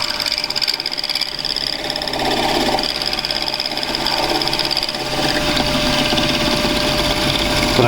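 A mini lathe drills an 8mm hole into a decorative knob for its speed control, producing a loud, continuous mechanical whir with a bright metallic edge that runs throughout.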